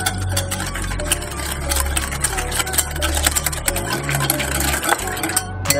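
Egg and caster sugar whisked together in a mixing bowl for gluten-free Nutella cookies, a loud, steady stream of rapid clicking and rattling that continues without a break.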